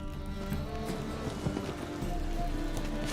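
Rain falls in the video game The Witcher 3 as a soft, steady patter, with horse hooves clip-clopping faintly beneath it.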